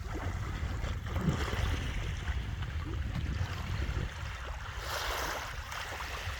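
Sea water and waves wash steadily at a Scottish shoreline as a man goes swimming, with a constant rushing surf and wind noise close to the microphone.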